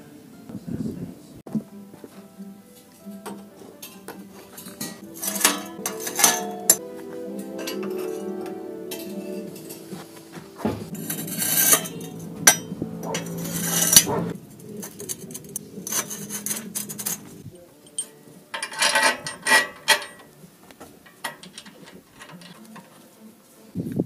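Metal protective bars being bolted onto a homemade go-kart: rasping wrench and scraping metal sounds with scattered clinks of bolts and nuts, close and fairly steady, with some talk mixed in.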